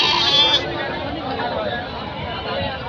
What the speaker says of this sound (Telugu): అప్పుడు ఇక్కడ చాలా పెద్ద గొర్రెపడేళ్ళు కట్టుంది ఒకటి.